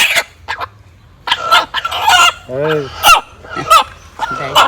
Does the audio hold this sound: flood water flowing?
no